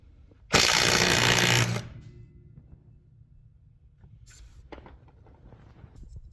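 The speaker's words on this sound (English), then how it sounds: "I am going to use the breakaway mode so you can see what happens once it breaks the nut loose" A ZKH cordless impact wrench in breakaway mode hammers a nut loose in one loud burst of about a second, then stops abruptly, followed by faint handling clicks and rustling.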